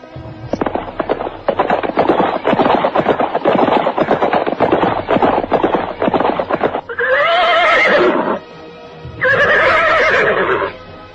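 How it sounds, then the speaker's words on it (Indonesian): A horse gallops in a radio drama sound effect, with fast, loud, crisp hoofbeats for several seconds, followed by two long, shrill neighs. "Derap kaki kuda terdengar nyaring, membelah suasana hening dan sepi"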